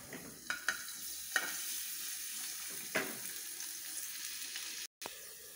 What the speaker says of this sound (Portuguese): Vou colocar dois dentinhos de alho picadinho. Vou deixar esse alho ficar bem douradinho.